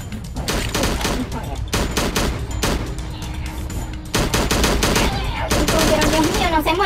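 Rapid bursts of gunfire crackle repeatedly, loud and dense, with brief pauses between volleys and some faint voice underneath, from the video game Slendytubbies 3 Multiplayer.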